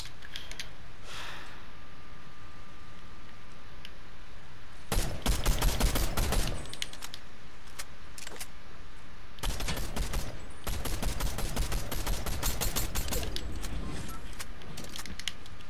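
Rapid bursts of automatic gunfire in Fortnite, two dense volleys of close, loud shots with quieter game ambience between them.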